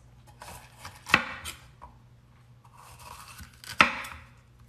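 A knife slices down the sides of a bell pepper, two sharp, crisp cuts about three seconds apart over a quiet background.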